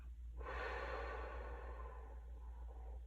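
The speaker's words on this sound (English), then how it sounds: "Breathe in. And breathe out." A single slow, deep exhale during a guided relaxation breathing exercise, a soft airy breath that swells and fades over about two seconds, close and quiet with no talking.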